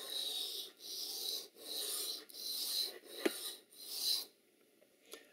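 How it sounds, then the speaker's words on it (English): Steel knife blade swiped across a diamond sharpening stone in repeated rasping strokes, five or six even passes close up with short gaps, ending with a light tap; no talking. "As I'm swiping the knife across the diamond stone"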